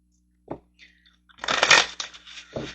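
Tarot cards are shuffled close by in one short riffling burst, with a couple of soft taps before and after.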